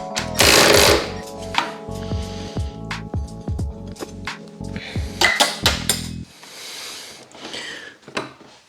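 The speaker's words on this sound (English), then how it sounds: "Now I'm just pulling the caliper bolts off." An impact-style power tool rattles and whirs in close, loud bursts while pulling brake caliper bolts off a Yamaha Zuma scooter, followed by metallic clinks of bolts and parts being handled.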